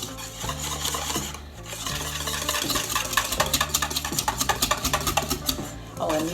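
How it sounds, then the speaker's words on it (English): A spatula stirs sweetened condensed milk and lemon juice in a bowl, giving close, repeated scraping and rubbing strokes in an uneven rhythm, with a few clinks against the bowl. "mix your sweetened condensed milk and your lemon juice. Mix it really good."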